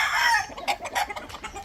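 Young six-month-old gamefowl stags cluck and crow in a farm yard, a burst of overlapping calls at first, then a rapid series of short clucks and calls nearby.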